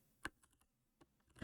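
A few separate keystrokes tap on a computer keyboard while a command is entered in a terminal, sparse and quiet, with a sharper louder key press near the start and another at the end.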